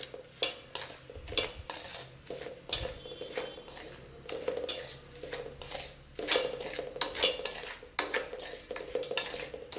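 Spoon stirring and scraping in a pan while mixing a dish being cooked, steady clinking and scraping strokes repeating close up, no talk.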